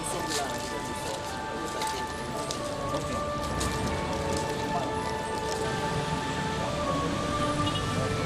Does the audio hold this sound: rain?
yes